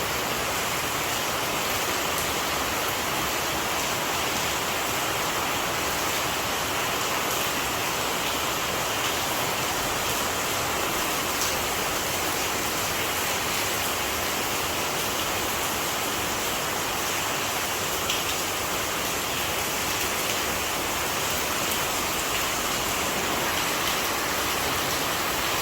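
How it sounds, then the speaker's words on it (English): Heavy rain pours down steadily near a police station, a dense, unbroken wash of hiss and patter that stays loud and constant throughout with no voices. "Don't stop raining in our big bad station."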